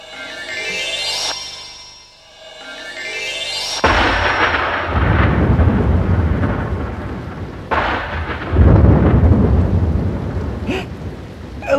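Loud thunder cracks and rolling rumbles over steady heavy rain, with a brief lull before the downpour and thunder surge again.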